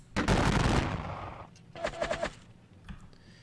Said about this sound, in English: The dragoons will fire.